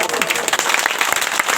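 An audience claps at a community gathering, a brief, loud patter of hands lasting under two seconds with a voice speaking over it.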